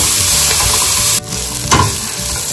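Nuts fry in ghee with onion, chili and tomato in a pan, a loud continuous sizzle with stirring scrapes and a brief dip partway through.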